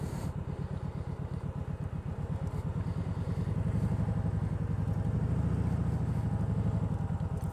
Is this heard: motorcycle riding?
yes